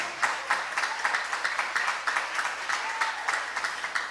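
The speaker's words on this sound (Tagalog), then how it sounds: "Palakpakan natin ang ating mahal na Panginoon, mga mahal." A church congregation applauds in steady, continuous clapping that fills the space, moderately near and without a break.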